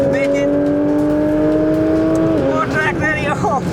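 A Porsche 911 GT3 RS street-legal track car revs hard and close, its engine note holding a high sustained pitch before dropping sharply at a gear change and climbing again, loud and continuous with a voice faintly beneath.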